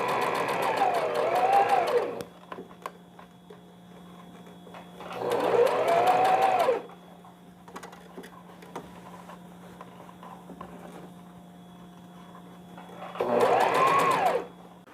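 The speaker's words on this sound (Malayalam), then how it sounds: "നെക്കിന് പൈപ്പിംഗ് അടിക്കുകയാണ്." A sewing machine stitches piping onto the neckline of a small newborn frock in three separate bursts of rapid whirring, close and loud, with quiet pauses between runs.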